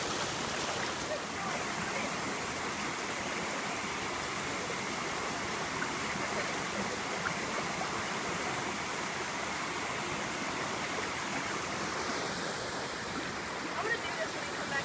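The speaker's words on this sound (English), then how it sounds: "We got the river right here" A river rushes steadily near a waterfall and pool in a wooded hiking spot, a dense continuous roar of flowing water, close and unbroken throughout.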